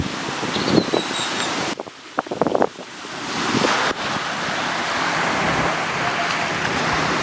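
Strong wind buffets the microphone in a continuous roar, with surf rushing nearby and a brief burst of voices partway through.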